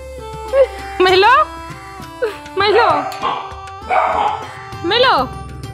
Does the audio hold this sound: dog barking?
yes